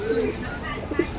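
Sapchila pigeon, a hen, cooing softly up close in a loft, a few low throaty coos against a background of people talking.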